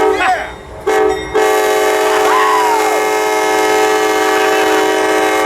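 Passenger train 198 passes a freight train at Riverside Station, its horn blaring in a loud, sustained blast that drops out briefly and resumes. A person cheers and whoops over it.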